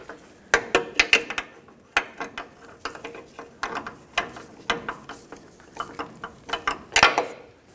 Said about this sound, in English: I'm gonna grab my ratchet and thread this on